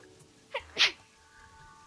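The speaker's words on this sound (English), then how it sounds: "Sneeze!" A single sharp human sneeze bursts out close to the microphone of a gamer playing Terraria, preceded by a small short noise, over a quiet background hum.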